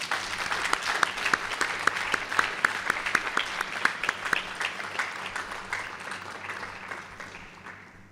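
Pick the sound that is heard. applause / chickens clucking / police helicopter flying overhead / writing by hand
applause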